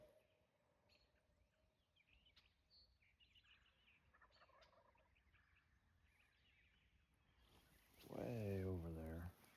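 A wild turkey gobbles far off in open hunting country, a faint warbling call near the end that a louder nearby voice partly covers, with quiet outdoor ambience and scattered small sounds before it.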